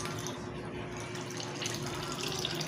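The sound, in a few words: pouring evaporated milk into champorado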